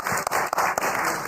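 Brief burst of close audience applause for speakers after a panel discussion at Cannes, dense clapping with a few sharp individual claps standing out.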